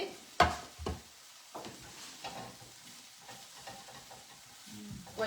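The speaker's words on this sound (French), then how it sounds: "On va encore laisser ça un petit peu ici mijoter." Leeks and ham simmering in a frying pan give a soft, continuous sizzle, broken by a few clacks and scrapes from stirring, all fairly quiet and close.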